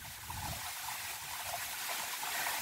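Water flows steadily from a spring-fed fountain outdoors, a continuous, even rush and trickle heard close up and alone, without talk.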